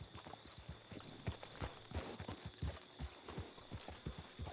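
Two horses pull a carriage in the video game Red Dead Redemption 2, their hooves clip-clopping in a steady, brisk rhythm over a constant low rumble of wheels, fairly close and alone without talk.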